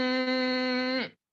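A person makes a nasal hum through the nose to imitate a buzzing mosquito, a single steady, bright tone held for about a second before stopping abruptly.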